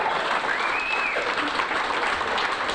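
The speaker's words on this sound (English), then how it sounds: "Let's have another round of applause for the one and only Sharon Lun," A game show studio audience applauds a contestant, dense continuous clapping with a few whoops, loud and close, while a host's voice carries over the top.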